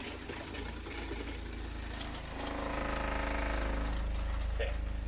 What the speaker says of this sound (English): The pump is just doing the work for us.